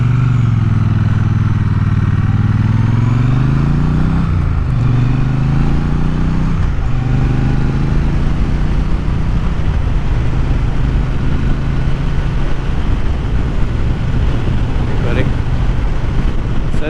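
A Triumph Bonneville motorcycle rides on an afternoon commute, its engine a steady low drone heard from the saddle under heavy wind rush, with pitch rising and falling as it shifts and speeds up, loud and continuous throughout.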